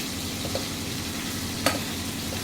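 Paneer pieces sizzling steadily in hot oil in a pan, a dense continuous crackle throughout with a couple of brief sharper pops, close and moderately loud, no talking.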